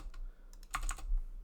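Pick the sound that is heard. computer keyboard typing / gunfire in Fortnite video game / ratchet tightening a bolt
computer keyboard typing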